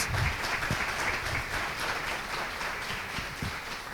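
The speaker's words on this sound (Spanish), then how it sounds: "un fuerte aplauso para José Carlos" Audience applause at a lecture or conference, a dense steady wash of many hands clapping together, close and fairly loud, with no speech over it.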